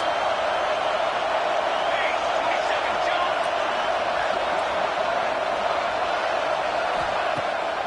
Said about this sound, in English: Big third down as the crowd gets behind this defense.